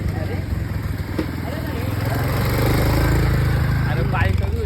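A motorbike rides past on a road near Alibag, its engine a steady, close mid-pitched drone that swells slightly and holds throughout, with people talking over it.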